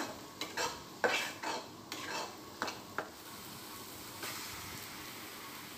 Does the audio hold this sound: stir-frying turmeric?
yes